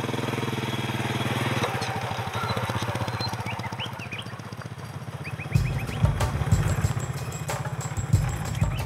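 A motorcycle in rural Myanmar, loaded with about 95 litres of fuel in cans, putters with a steady engine note, then revs louder and rougher as it gets under way, with faint outdoor noise around it.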